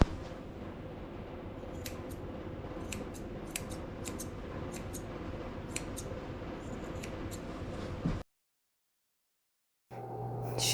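Grooming shears snip through matted coat on a Yorkie, a quiet series of sharp, irregular metallic cuts spread over a soft background, followed by a brief silence and a low rustle.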